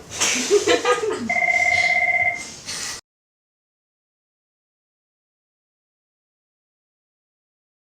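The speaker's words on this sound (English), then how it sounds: "It's exactly the same when the phone rings in the middle of an interview." Telephone ringing in the middle of an interview: a close, steady two-tone electronic ring lasting a couple of seconds right after a short stretch of speech, followed by silence.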